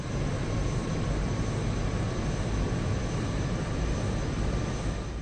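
A jet fighter's engine roars steadily on afterburner in the flight game Over G Fighters, a dense, unbroken broadband rush that holds constant throughout.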